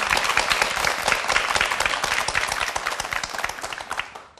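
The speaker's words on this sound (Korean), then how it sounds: "박수 좀 보내주세요." Studio audience on a television talk show breaks into loud, brisk applause, many hands clapping rapidly and evenly close to the microphones before it tapers off at the end.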